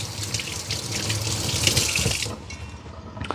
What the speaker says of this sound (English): I'm going to rinse off real quick